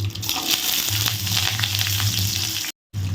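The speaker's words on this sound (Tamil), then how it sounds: "இது எல்லாத்தையும் நல்லா வதக்கி விடுங்க." Steady, close sizzling of onions and two green chillies frying in a pan, with a brief dropout near the end.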